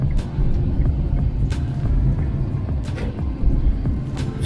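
A truck setting off from Brest toward Minsk, its loud, steady low engine rumble and road noise heard from inside the cab with no talk.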